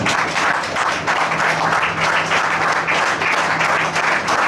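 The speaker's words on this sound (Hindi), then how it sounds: "बजाओ ताली परमेश्वर" Church congregation clapping together at a Sunday prayer service, a dense, steady wash of hands sustained for several seconds at close range, with a faint low hum beneath.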